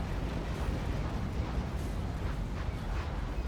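Bombs dropped by an X-32 aircraft exploding in the real-time strategy game Act of Aggression: a continuous, rumbling barrage of blasts blending into a dense roar at a moderate distance, without talking.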